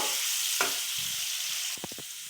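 A spiced mixture with turmeric and salt sizzles in a pan under a steady hiss, with a few soft scrapes and quick clattering stirs of a utensil near the end.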